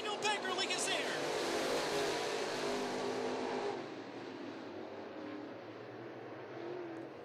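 Pro Late Model stock cars race past on a speedway oval, a loud broadband roar of engines sweeping by close, easing slightly partway through as the pack moves off, with a background voice in the mix.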